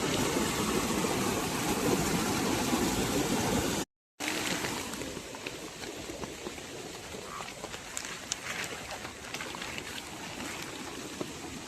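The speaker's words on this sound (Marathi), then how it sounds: "स्पीड बघा कसलं पाणी आता भरपूर स्पीड आहे" Fast-flowing river water rushes with a steady, dense roar at a Konkan fishing spot. The sound is close and continuous, with a brief dropout partway through.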